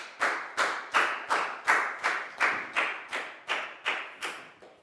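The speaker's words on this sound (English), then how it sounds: "High five and a big round of applause for Preo," Children in an English class clap together for a classmate, about a dozen sharp unison claps in a steady beat, each one ringing briefly before the next.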